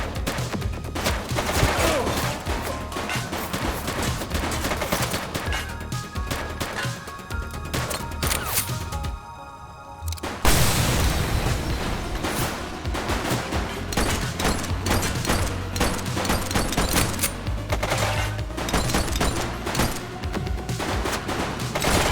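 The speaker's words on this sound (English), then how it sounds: "Shots fired!" Heavy gunfire in The Precinct video game, near-continuous loud bursts of shots that break off briefly in a short lull before resuming just as intensely.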